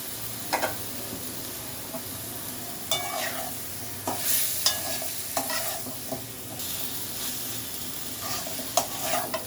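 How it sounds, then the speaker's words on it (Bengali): Chicken fries noisily in a pan while a utensil scrapes and stirs it in irregular bursts over a constant sizzling hiss. "মাংসটা ভালো করে কষে নেব।"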